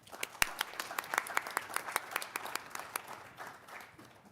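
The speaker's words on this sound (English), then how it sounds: "Let's give them a round of applause." Applause at a Norwood board of education meeting honoring student athletes, a modest room of people clapping, individual claps distinct and fairly sparse, moderately quiet and gradually thinning toward the end.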